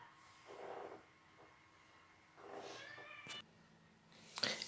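A house cat makes soft, short vocal sounds and snorts in a few separate bursts, close by in an otherwise quiet room.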